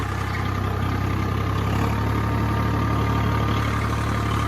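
Tractor engine held steady at 1400 RPM while driving a multicrop thresher set up for mung beans, a constant loud low droning hum with even vibration and no talk.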